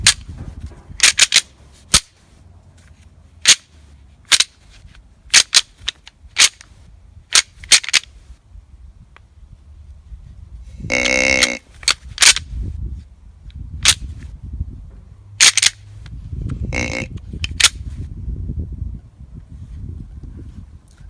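Deer antlers rattled together to mimic sparring bucks during a hunt on Alabama public land, heard as sharp, loud clicking cracks spaced apart, then a dense grinding clatter burst, with more scattered clacks and rustling in the woods.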